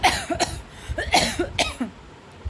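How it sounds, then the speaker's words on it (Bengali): A person coughs repeatedly at close range, a series of harsh, rough bursts in quick succession with brief gaps between, loud and alone without talk. "আমার তো খুব কাশি তবে এখন কমেছে"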